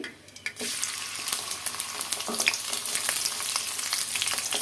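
A bay leaf drops into hot oil and sets off a loud, steady, crackling sizzle that begins abruptly and continues unbroken, with a few small pops and stirring scrapes near the pan.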